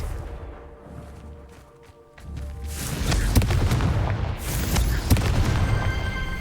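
A Confringo blasting spell explodes in the Hogwarts Legacy video game, a loud booming burst after a quieter stretch, followed by sustained rumbling and crackling debris for several seconds, with no talking.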